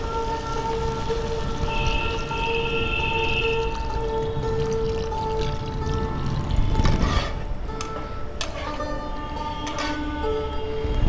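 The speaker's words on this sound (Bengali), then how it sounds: "এবার দিয়ে দিচ্ছি বেশ কিছুটা জল।" A good amount of water is poured into a pot of softened sour mangoes while a summer mango ambal with lentil boras is cooked, making a steady close splashing fill over a constant background hum.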